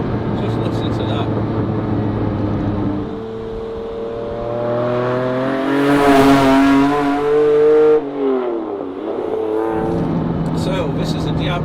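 A 1996 Lamborghini Diablo SV engine revs up hard, climbing in pitch to a loud peak, then drops back to a rumbling idle, with a voice talking over the start and end.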